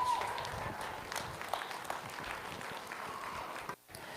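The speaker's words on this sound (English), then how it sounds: "let's give all six another big round of applause" A crowd at a county 4-H event applauds steadily with a dense patter of clapping at moderate distance, and the clapping drops out briefly near the end.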